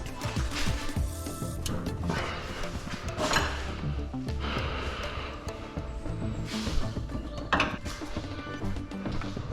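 A torque wrench and tools work on a car's rear right wheel, with clicking ratchet sounds, metallic clanks and scrapes in irregular bursts, close and moderately loud.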